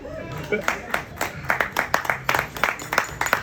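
An audience at an award ceremony in the Bahamas claps in a scattered, uneven patter of individual hands. The sound stays moderate and steady, with murmured talk in the background.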